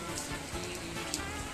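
Heavy, steady rain pours down during a typhoon in Northern Samar, a dense continuous wash of drops drumming on surfaces with no wind or voices.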